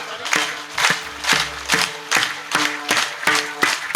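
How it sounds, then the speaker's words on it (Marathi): An audience at a kirtan claps together in a steady, even rhythm, about two claps per second, loud and close. "जरा जोरात जोरात जोरात टाळी."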